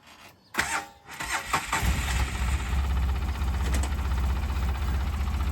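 A farm vehicle engine cranks with a few rough turns, then catches and settles into a loud, steady, close idle rumble.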